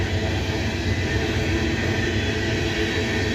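A steady, loud rumble of an empty coal train rolling past, continuous and unbroken, with a broad low roar and hiss throughout.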